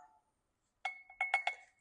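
Small glass clinking while fat is skimmed off chicken broth, a few bright, ringing taps close by: one short ring, a pause, then a quick cluster of three or four clinks in a quiet kitchen.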